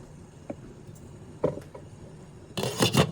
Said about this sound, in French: On va venir le mélanger. Séparer les grains à l'aide de notre spatule.